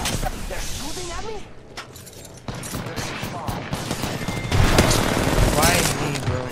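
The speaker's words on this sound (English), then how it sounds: "They're shooting at me?" Rapid video-game gunfire crackles through a busy, dense mix of in-game sounds, with bursts of shots fairly loud throughout and a player's voice talking over the action.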